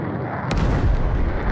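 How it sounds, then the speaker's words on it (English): A rapid burst of heavy, booming F-15C jet cannon fire in a flight-simulator dogfight erupts over a dense roar of engine noise, loud and continuous with no pause. "Some speculative gunshots."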